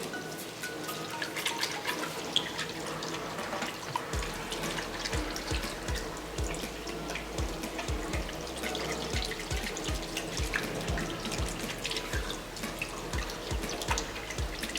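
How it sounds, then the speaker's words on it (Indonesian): Water runs steadily from a tap while hands are rinsed of soap, a continuous close splashing wash with dripping and uneven spatter throughout, no voices. "dengan air yang mengalir untuk membersihkan sabun-sabun dari sela-sela jari"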